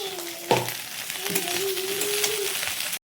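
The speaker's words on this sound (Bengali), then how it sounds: "এই যে মাছটা ভাজা হয়ে গেছে" Fish belly pieces fry in a pan with a steady close sizzle and crackle. A brief stir or clatter marks the start, and a faint voice is under the hiss.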